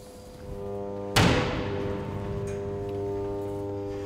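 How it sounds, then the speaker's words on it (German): A wind turbine being disconnected from the grid gives one sharp bang partway through, ringing out over a steady tonal machinery hum that continues afterward. "Jetzt hat man auch diesen Knall oder diese Geräusche, jetzt ist die Anlage vom Netz getrennt."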